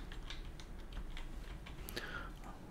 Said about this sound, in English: My typing speed's dreadful at the moment.